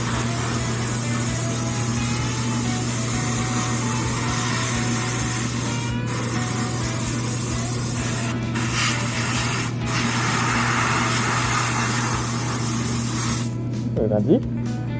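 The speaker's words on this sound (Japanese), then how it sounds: "少しニードル絞り気味で、 ちょっとずつ色をのせるっていう感じで色を入 れてあげます。" An airbrush hisses steadily and continuously as it sprays paint onto the body of a Tamiya 1/12 Lola T-70 Mk.3 model car, with a few brief pauses near the end.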